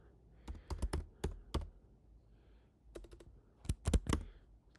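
Bursts of keystrokes on a computer keyboard, sharp clicks in quick clusters with short pauses between, fairly close and clear against a quiet room.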